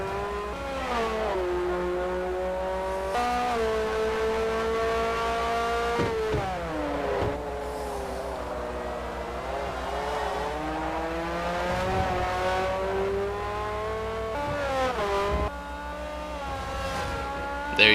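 Race car engines during a Forza video game race at Sonoma, with an open-wheel Formula-style car. A steady, loud, high-pitched engine whine rises and falls through the gears, with upshifts and downshifts and the clear sound of cars nearby.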